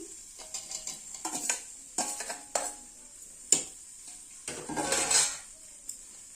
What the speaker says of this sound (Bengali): ভেজে রাখা সবজি পাটনি জালে দিয়ে দিচ্ছি